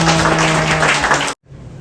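A church gathering gives a thankful round of applause to a visiting pastor and congregation for serving a meal. The clapping is close and loud, then cuts off abruptly into near silence.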